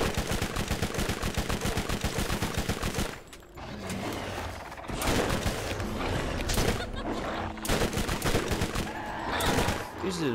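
Rapid automatic gunfire from the video game Borderlands rattles in a long, loud, steady burst, then returns in repeated sustained volleys with game effects, and someone talks over parts of it.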